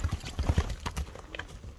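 Hooves of a sport horse clip-clop in quick, uneven steps close by, a brief run of thudding footfalls with no other sounds over them.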